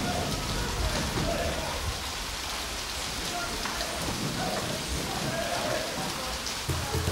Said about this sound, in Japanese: 台風10号の影響で三峰は凄まじい豪雨となった。